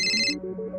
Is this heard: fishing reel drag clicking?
no